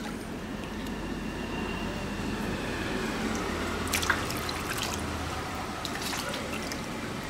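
Radishes are washed by hand under a running tap in a home kitchen. The water makes a steady close gush, with a few splashes and clinks toward the end.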